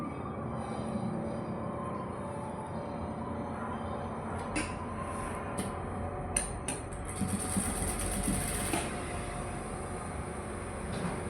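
A sewing machine stitching a seam on a katori blouse, a steady mechanical hum running continuously at close range with a few brief clicks and bursts of higher whirring partway through, no talking.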